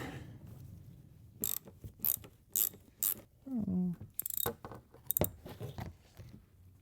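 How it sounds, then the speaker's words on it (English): Under a car, a 10mm ratchet and socket work loose bolts, giving bursts of metallic clicking and ratcheting with small clinks and rattles, close and moderately loud against a quiet background. "just grab a 10mm ratchet and socket, and those should come right out"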